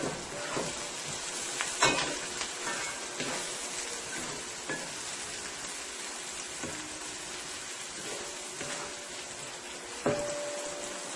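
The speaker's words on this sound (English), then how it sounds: "You don't want the garlic to burn, you just want it to flavor the oil a little." Garlic sizzles gently in oil in a pan for a stew, a soft continuous crackle with a few louder clinks and stirring knocks scattered through.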